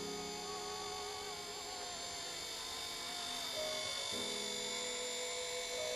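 A small remote-controlled toy helicopter hovers close by, its motor and rotor giving a steady high whine with a shifting pitch that drops partway through, alone and fairly loud.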